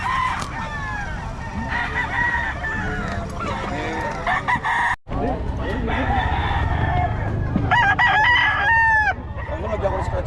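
Gamecocks crow repeatedly at a crowded rooster market in Bocaue, with clucking and overlapping crows near and far over a busy murmur of people talking.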